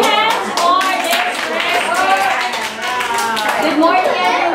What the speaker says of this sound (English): Clap your hands for this.